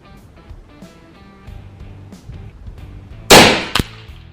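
An FX Dreamline Power Pup 5.5mm air rifle fires a single sharp, loud crack, followed quickly by a smaller click, after quieter handling noises.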